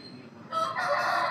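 A heavy, full-sized double-bodied rooster crowing once, loud and close, the call rising after a short quiet lead-in.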